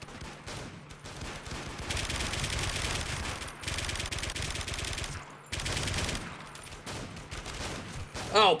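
Gunfire in the shooter game Warmode comes as dense, rattling bursts of rapid automatic fire, several long volleys broken by short gaps, with a voice talking at times between them.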